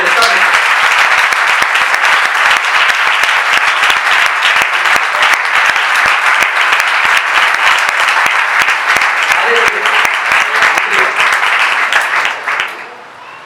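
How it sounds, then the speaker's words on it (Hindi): A large audience at an evangelist's faith gathering breaks into loud, sustained applause, a dense wash of clapping held steady for about twelve seconds before quickly dying away. "इनके लिए जोरदार ताली बजाएं।"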